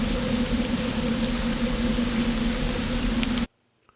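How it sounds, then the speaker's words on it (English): Steady, dense rain hiss forms a looping ambient background layer for a game, holding at an even level with a low hum beneath before cutting off abruptly near the end. "they're longer loops overall, and they're just rain, kind of very much background sounds, and hum"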